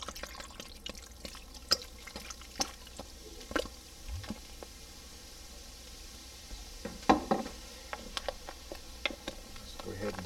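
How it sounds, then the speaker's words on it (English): Samuel Smith's stout poured from a bottle into a pot of beef stew, giving soft splashing and dripping with a few louder glugs, close but fairly quiet. "I'm going to add this whole bottle in here."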